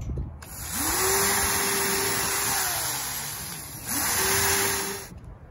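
A drill whines as it bores pilot holes during an archtop guitar build, two sustained motor runs with a steady pitched hum over a loud airy roar, close up with a short dip between them.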